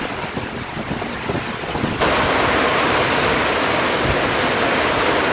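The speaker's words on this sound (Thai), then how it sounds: "ฝนตกล่มครับนี่" Heavy rain and strong storm wind batter a small fishing boat at sea, a dense continuous roar and hiss that grows louder and fuller after the first two seconds, with no voices.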